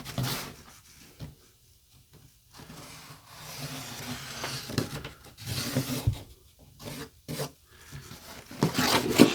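A Sharpie marker rubs along a wooden cabinet panel in a box van build, giving soft, uneven scratchy strokes in short bursts with pauses between them, close and fairly quiet.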